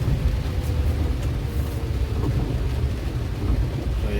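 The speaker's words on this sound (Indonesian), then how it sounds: "di suasana cuaca hujan cukup deras di kota Palembang" Heavy rain falls steadily over busy city traffic in Palembang, a dense, loud wash of rain and road rumble with no pauses.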